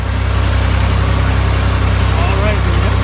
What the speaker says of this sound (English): got some diesel with the tractor, and now heading back out the road here